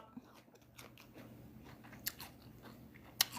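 Bites into a crunchy, hard peach, with a few quiet crisp crunches and chewing sounds close to the microphone, sharpest near the end, and no talking.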